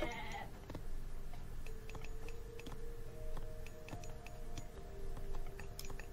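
Goats bleat in the real-time strategy game Age of Mythology, a few faint short calls heard over a low background drone, soft clicks and brief game tones, with no talk.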